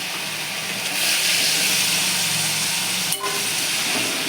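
Eggplant dropped into a pan of frying spices for a Bengali pomfret fish curry, a loud steady sizzle and hiss close by, swelling slightly as the pieces go in.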